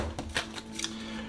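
An oracle card deck being shuffled, a few quick soft riffling bursts of cards close by with no talking.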